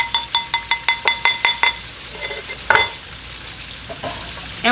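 Hot frying oil spooned from a pot and gently mixed for Nashville hot chicken, giving a quick run of about a dozen evenly spaced bright clinks and sizzles, then a few softer scrapes and stirs close by.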